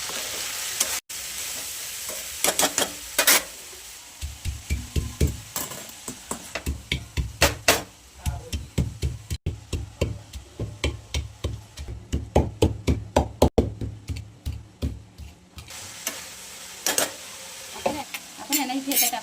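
Cluster beans in spicy chili kharda are stirred in a pan, with a steady sizzle under repeated rhythmic scraping and clanking of a spoon against the metal.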